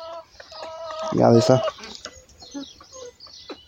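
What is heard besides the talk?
chickens clucking in a henhouse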